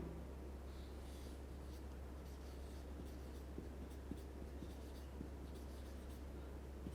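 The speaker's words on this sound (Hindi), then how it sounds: "तो मैं यहाँ पे लिख रहा हूँ" Marker or chalk scratching on a board during a chemistry lecture, a steady faint scraping with small taps over a constant low room hum.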